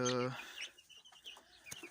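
A hen in a backyard poultry pen clucks briefly up close, a short throaty call followed by fainter soft clucks and chirps, quiet overall.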